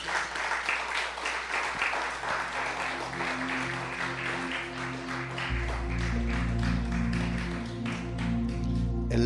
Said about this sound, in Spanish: Un aplauso fuerte a Jesús